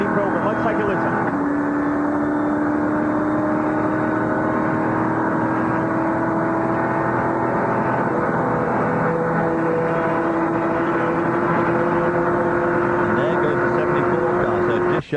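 Race car engine at the 2004 Rolex 24 endurance race at Daytona, heard onboard and loud throughout, holding a steady, low-rev drone as the driver short-shifts through the gears.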